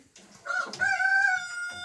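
A blue splash Jersey Giant rooster crows close by, one drawn-out, strained call that rises and holds before trailing off.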